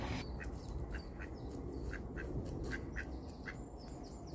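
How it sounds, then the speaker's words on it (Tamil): Ducks quack repeatedly while foraging, in short, evenly spaced calls over a steady background hiss, fairly close by. "இறை தேடும் வாத்துக்கள்"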